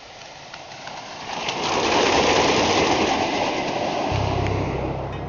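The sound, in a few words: roller coaster train running downhill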